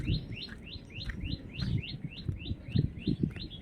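Small birds chirp repeatedly in a quick, regular series of bright tweets during a village morning walk in the hills, with soft low rustling and footstep-like patter beneath.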